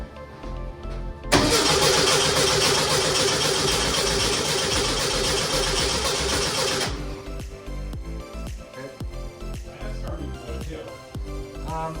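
A supercharged Volkswagen Bus engine fitted with an AMR-500 blower cranks and catches, then roars loudly and steadily for about five seconds before dropping to a lower, rougher idle with faint background noise.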